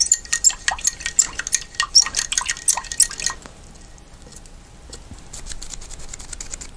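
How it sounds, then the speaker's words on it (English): A paintbrush rinsed in a cup of water during a grayscale painting session: quick clinks and drippy sloshes in an irregular flurry for about three seconds, then a quiet, faint hiss. "Let's rinse that off real quick."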